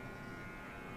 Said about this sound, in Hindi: ट्रिमर आपको बहुत इम्पोर्टेंट है